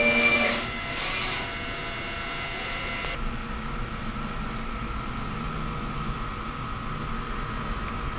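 A DTF printer runs a nozzle test, starting with a loud burst of whirring and hissing that cuts off after about three seconds, leaving a steady, quieter mechanical hum.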